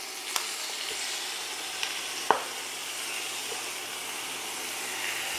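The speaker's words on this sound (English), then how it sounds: "we're getting some nice stir frying going there now" Bok choy and basil sizzle steadily in a hot stir-fry pan, a continuous close hiss broken by a few faint clinks of a utensil, with no speech.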